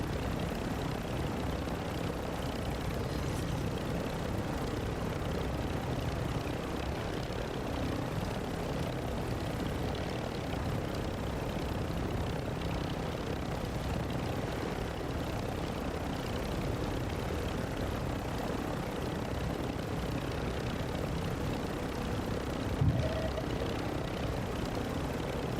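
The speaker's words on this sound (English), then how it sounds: "Ultra One, the enemy attack helo is moving in your direction." Enemy attack helicopter in the Call of Duty DMZ video game, a steady droning rotor and engine rumble holding at an even level throughout, with a faint brief knock near the end.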